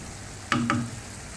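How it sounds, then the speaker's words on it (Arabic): Chicken pieces sizzle in a frying pan while being stirred, two quick scraping stirs cutting through the soft, steady background crackle. "راح نخلوهم يتقلاو لنا شوية مليح حتى يطيب لنا الدجاج تاعنا"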